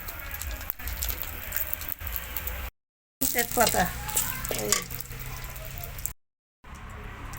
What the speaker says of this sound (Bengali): আর ওই তেলে দিয়ে দেবো জিরে আর দিয়ে দেবো তেজপাতা